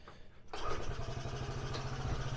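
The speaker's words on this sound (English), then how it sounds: "It's a Honda, of course it's gonna start." A Honda small engine on half choke catches after a short pause and settles into a rapid, even putter, close and moderately loud with no voices over it.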